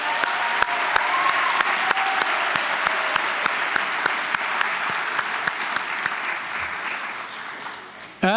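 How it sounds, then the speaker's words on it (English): A graduation ceremony audience applauds the faculty with steady, dense clapping that fills the hall, evenly sustained and fairly loud before thinning out near the end. "Let's give a round of applause to all of our faculty"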